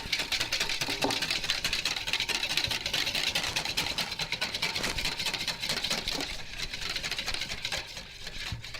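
Oil being whisked into an emulsion, a fast continuous metallic rattling of the whisk against the bowl, close and steady for the whole stretch, slightly easing toward the end.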